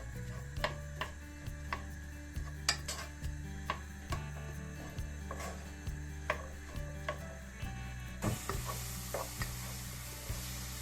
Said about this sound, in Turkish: Soğanımızla kıymamızı güzelce kavuruyoruz.